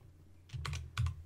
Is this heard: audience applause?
no